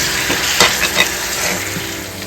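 Bitter gourd and tomato gravy with added water stirred in a pan, a steady close sizzle with a few soft scraping strokes of the spoon across about two seconds.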